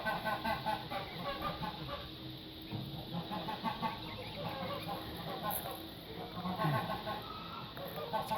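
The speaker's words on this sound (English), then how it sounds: "See all the little chickies" Chicks under a heat lamp in a colony, peeping and clucking amid a constant busy din of many birds, with a dense overlapping chorus of calls sustained throughout.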